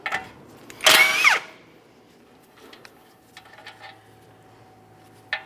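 An 18mm mounting nut comes off an outer tie rod end at the steering knuckle of a 2017-2023 GMC Acadia: one loud, short power-tool burst near the start, then quiet scattered clicks and handling noises.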